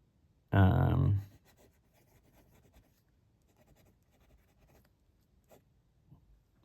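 Majohn Moonman flex fountain pen nib laying a wet, fine line of Waterman Serenity Blue ink on paper: a single close, scratchy stroke lasting about half a second, followed by near silence.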